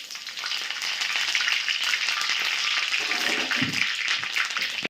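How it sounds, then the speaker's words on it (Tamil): Mustard seeds sizzling and crackling in hot oil for a homemade tomato garlic pickle, a bright, dense, continuous frying hiss that stays close and steady throughout. "இப்போ நம்ம கடுகு போட்டுக்கிறோம்"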